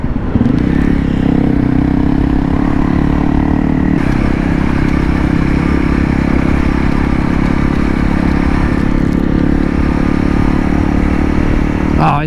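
A Honda CRF 300L motorcycle rides steadily on a road in the Philippines, its engine droning loud and continuous with wind and rattling clatter throughout.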